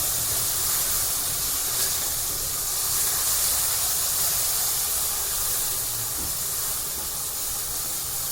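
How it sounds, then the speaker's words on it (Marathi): Spice paste sautéing in hot oil for a spicy mackerel (bangda) fry, a loud, steady broadband sizzle and hiss that holds evenly throughout, close up and with no voices. "हा मसाला तेलामध्ये व्यवस्थित परतून घ्यायचा आहे"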